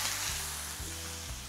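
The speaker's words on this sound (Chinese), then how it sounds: "那我分享的方式我是用中小火在煎牛排" Steak fries in hot, lightly smoking oil in a pan over medium-low heat, giving a continuous close-up sizzle with a few soft pops and no talking.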